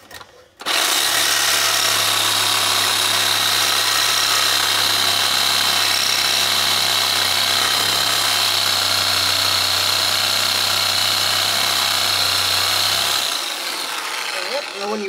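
A Sawzall reciprocating saw cuts during a battle box install on a Fox Body Mustang, running loud and continuous for about thirteen seconds before stopping abruptly.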